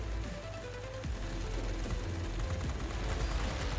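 Rapid bursts of gunfire rattle over a constant engine drone in a video game air battle between fighter jets, with distant booms mixed in, loud and continuous throughout.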